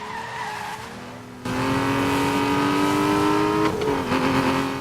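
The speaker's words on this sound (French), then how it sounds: "On sent que c'est un moteur qui envoie là." An Aston Martin V12 Vantage engine revs hard and close, its tone climbing sharply partway through, holding a loud high wail, then dipping briefly before rising again.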